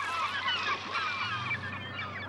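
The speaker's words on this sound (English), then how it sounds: "The herring gull is one of the few seabirds to have increased dramatically in recent decades." A flock of herring gulls calls where a bay opens to the sea, with overlapping honking, squealing cries filling the air continuously at moderate distance.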